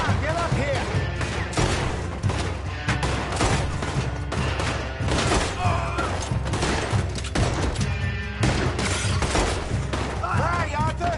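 Gunfire from the video game Red Dead Redemption 2, a dense continuous fusillade of shots and booms mixed with game music and shouting voices throughout.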